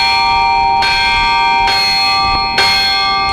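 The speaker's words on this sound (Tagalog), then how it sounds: "umalingaw-ngaw ang mga kampana ng UP Carillon." Carillon bells of the University of the Philippines in Quezon City ring out in bright, sustained tones, with fresh strikes landing roughly every second over a long, overlapping decay.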